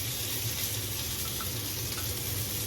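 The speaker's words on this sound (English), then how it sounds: "here are my potatoes sizzling" Potatoes and onions sizzle steadily in a cast iron pan, a dense, even hiss that runs continuously and fairly loud, with no voices over it.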